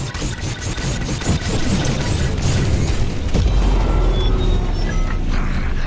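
Bombs detonating in the space combat game Star Wars Squadrons, a burst of rapid crackling blasts followed by a deep heavy boom and a sustained low rumble, loud and close.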